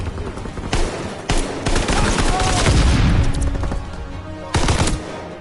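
Loud bursts of automatic gunfire in Call of Duty WWII, with shots fired into smoke near a command post: a sharp burst, then sustained rattling fire, and a final burst, close and forceful.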